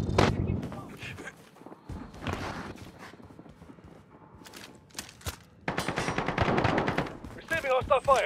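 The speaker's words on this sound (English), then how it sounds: "Receiving hostile fire." Gunfire in Call of Duty: Modern Warfare, with repeated sharp shots and bursts in irregular clusters over a game soundscape, growing loud and dense toward the end, with voices in the mix.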